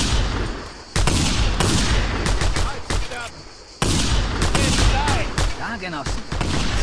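Gunfire from Reapers in Just Cause 2, with dense bursts of shots and explosive rattles filling most of the clip and broken by brief lulls, while a voice talks over part of it.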